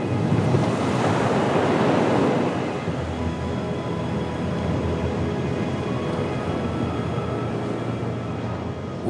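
Stormy sea off the Brittany coast in Finistère, with heavy waves surging and a strong wind roaring across the microphone, a loud, continuous wash that swells early on and then holds steady, with no voices.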